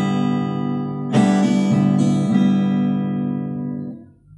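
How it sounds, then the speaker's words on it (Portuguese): Nylon-string guitar strummed in the rasqueado X pattern: a sustained chord with a few quick fanned finger strokes rolling across the strings, close and clear, letting the chord ring out at the end. "Esse é o som do rasqueado X."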